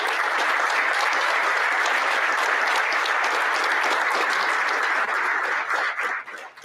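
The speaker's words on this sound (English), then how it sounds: "So, Pags, you deserve another round of applause." Audience at a school athletic awards ceremony breaks into sustained, dense applause that holds steady for several seconds, then tapers off at the end.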